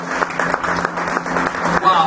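Congregation applauding during a Spanish-language church service, a brief burst of clapping from many hands mixed with voices.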